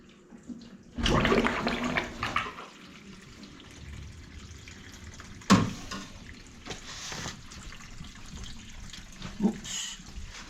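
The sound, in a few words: water filling waste pipe up to overflow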